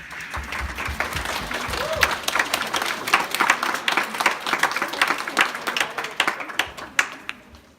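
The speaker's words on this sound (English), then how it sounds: "A round of applause, please." An audience claps for a mariachi band and a dance group, with dense, lively applause from a crowd that runs steadily for several seconds before thinning out, a few voices mixed in.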